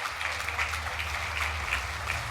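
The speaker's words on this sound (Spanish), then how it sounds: "vamos a hacer un fuerte aplauso" An audience applauds warmly, a continuous patter of many clapping hands, moderately distant and even throughout the short stretch.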